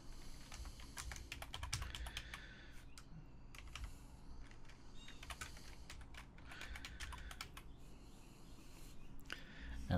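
Computer keyboard typing while entering a signup message into an email opt-in form, with steady bursts of close, crisp key clicks running throughout and no speech.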